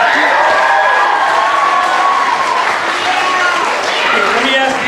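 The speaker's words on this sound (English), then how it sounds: "it's odd that we get actually applause for your teachers and your vice principals" A school assembly audience at Lanai Elementary and High School applauds teachers and vice principals, with sustained loud clapping, cheering and children's whoops filling the whole stretch.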